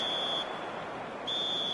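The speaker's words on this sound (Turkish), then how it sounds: "İlk devreyi tamamlayan düdükçesi geldi." Two long, steady referee whistle blasts end the first half in the eFootball 2026 football video game, sounding loud and shrill over a constant stadium crowd roar, with a short gap between them.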